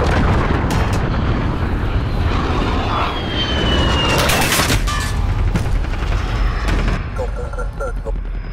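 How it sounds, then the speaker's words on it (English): An allied cruise missile streaks in during a Call of Duty: Modern Warfare mission, a loud roaring whoosh with a falling whistle, then booming impacts and rumble, with gunfire and radio-style voices mixed underneath. "Allied cruise missile away."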